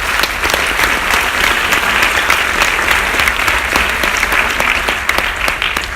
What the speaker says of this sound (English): if we could do a round of applause for all of you for coming out